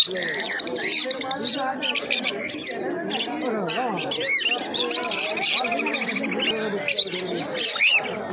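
Lutino and V5 cockatiel pairs at a crowded pet market in Uluberia, a dense, loud chorus of chirps, whistles and squawks from many birds at close range, with someone talking over them throughout.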